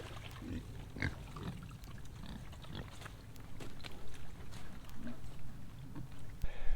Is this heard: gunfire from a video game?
no